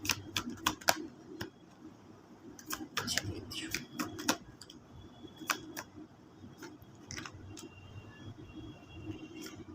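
Cards drawn and handled from several tarot decks give off scattered crisp snaps and clicks in an irregular rhythm, close and fairly faint, over a low background murmur.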